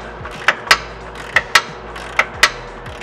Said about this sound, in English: Tighten up. Get this rack in place. I love my ratchet wrenches